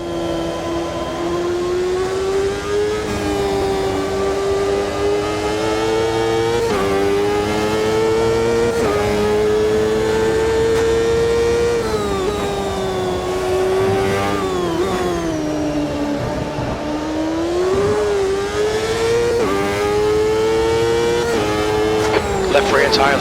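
Race cars lapping Suzuka in a racing video game, a close, continuous engine drone that rises and falls with revving and gear changes through corners, steady and loud throughout.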